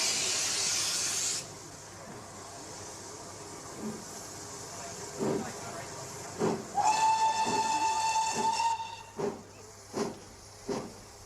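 The steam locomotive Clun Castle hisses, then sounds a long whistle and chuffs out in loud, spaced puffs as it pulls away from a station.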